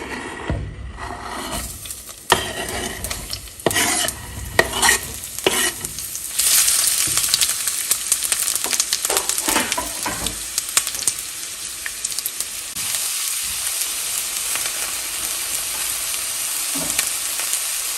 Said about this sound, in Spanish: En una cacerola con aceite vamos a agregar una cebolla cortada en medias lunas.